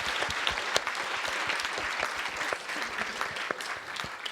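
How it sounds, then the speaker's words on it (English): Audience applause fills a panel discussion after a performance at the Barbican, dense steady clapping throughout with a few sharper claps standing out, no voices. "A special applause."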